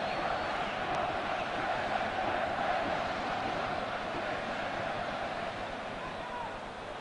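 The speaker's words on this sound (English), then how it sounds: "This packed crowd totally immersed in this game." A packed football stadium crowd at a 1992-93 Serie A match between Napoli and Inter gives a steady, distant roar that stays level throughout, with no voices standing out.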